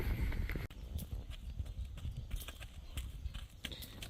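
Horses in a field beside a paved country road near Néville-sur-Mer in Normandy's Cotentin produce clip-clopping hooves, irregular close thuds and knocks with a brief voice heard faintly among them.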